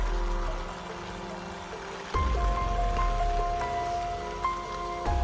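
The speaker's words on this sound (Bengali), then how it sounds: "চব্বিশ ঘন্টা বৃষ্টি বৃষ্টি শুধু বৃষ্টি" Steady rain patters and hisses on surfaces nearby, with dripping water and a tonal hum in the background.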